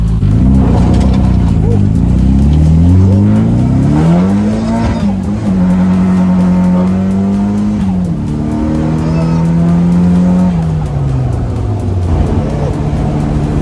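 Drift-spec Nissan Silvia engine revving loud and close, pitch climbing and falling in long sweeps while tires squeal against the track at a drift circuit, with people talking over it.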